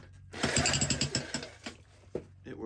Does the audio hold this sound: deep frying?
no